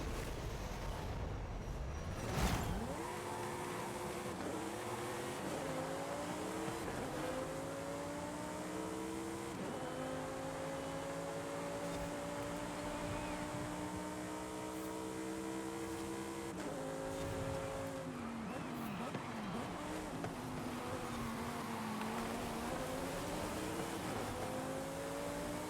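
A Lamborghini engine in a driving video game revs and climbs through gears repeatedly, rising tones dropping at each shift, loud and continuous for the whole run with no voices over it.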